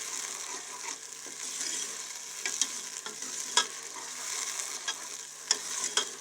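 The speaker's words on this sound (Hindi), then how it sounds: "चूल्हे की आग को हाई करके आपने इसको 10-15 सेकंड तक यहाँ पे इसको फ्राई करें।" A daal lobia tempering of kidney beans fries on a high flame, giving a soft, steady hiss with scattered stirring clicks and spatters, fairly quiet and close.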